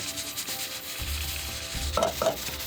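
Mutton stew mixture is moved into a hot pan with a spatula and sizzles, giving a soft frying hiss with a couple of scraping knocks near the end.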